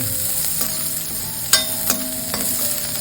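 Onions sizzle and fry in a pan while a utensil stirs and scrapes, with a few sharp clinks, steady and close with no voices.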